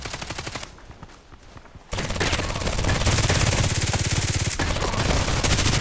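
A rapid, continuous stream of gunshots rattles out in the online shooter Contract Wars, with a thinner burst first and then louder, dense firing after a brief lull, as a Glock pistol is used in a firefight.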